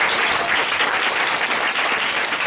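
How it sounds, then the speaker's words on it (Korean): Church congregation at a course graduation ceremony applauding their instructors, a full, dense roar of clapping hands sustained evenly from start to finish. "먼저 형제자매들이 감사의 박수를 우리 강사님들께"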